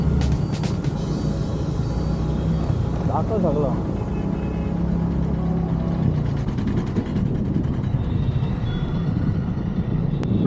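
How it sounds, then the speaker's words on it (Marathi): Traffic jam on the Virar flyover bridge: a steady rumble of idling and creeping engines fills the whole stretch, close and continuous, while people talk over it. "इथे पण थोडी ट्रॅफिक आहे"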